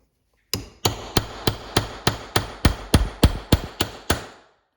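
A hammer strikes a chisel to drive out transmission bushings, twelve sharp metallic blows at a steady, even pace, close and loud, each ringing briefly before the next.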